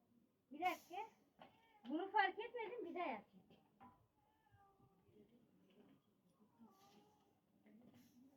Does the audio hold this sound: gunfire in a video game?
no